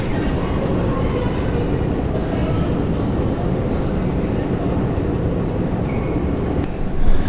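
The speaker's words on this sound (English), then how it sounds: "So we just reached the metro station" A train in a Stockholm metro station rumbles steadily throughout, with a brief brighter clatter near the end and faint voices mixed into the noise.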